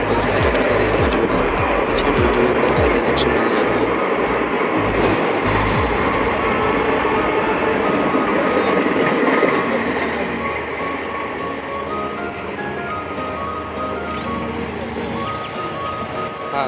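An express train on the Mumbai suburban railway near Dombivli and Thakurli rumbles past nearby with loud, steady clatter and roar that gradually drops off as it moves away, with faint voices in the background.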